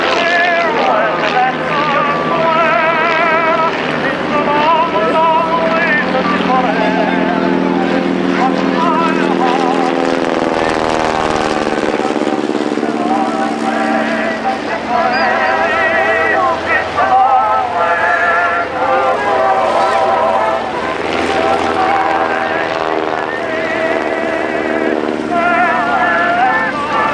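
Vintage Great War biplanes tangle in a recreated dogfight at the Shoreham Airshow, their piston engines and propellers droning loud and continuous, rising and falling in pitch as they swirl overhead, with a commentator's voice running over them.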